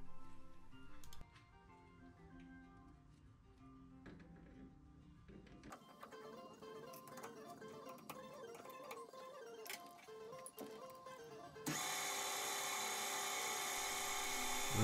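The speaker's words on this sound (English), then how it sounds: "So what I'll do is quickly lop it off in the bandsaw" A workshop bandsaw cuts off a length of 33mm round metal bar: a steady whining motor with faint ticking, building to a louder, harsh hissing cut in the final few seconds.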